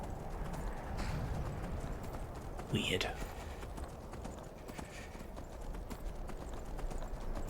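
Hooves clip-clop rapidly as a horse gallops in the video game Skyrim, a steady running rhythm with a brief whinny partway through, while a person talks over it.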